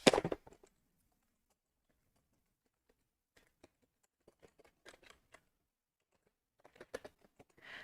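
Scattered bursts of computer keyboard typing, faint and intermittent clicks separated by long pauses, with a louder clatter at the start.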